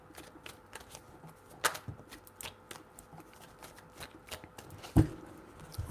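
Quiet riffling and soft slaps of a deck of tarot cards being shuffled, a few distinct snaps standing out, close and with no talking.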